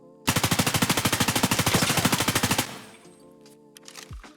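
An M4 rifle in a video game fires one sustained fully automatic burst of about twenty rapid, loud, evenly spaced shots. The burst then stops abruptly, leaving ringing tails and a few faint mechanical clicks.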